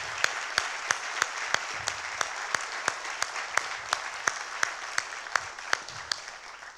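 A theatre audience at a motivational talk claps in unison, a steady rhythmic beat of sharp, even hand claps about three per second over a soft background murmur, moderately distant.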